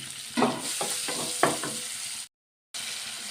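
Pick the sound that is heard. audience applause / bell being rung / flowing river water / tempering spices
tempering spices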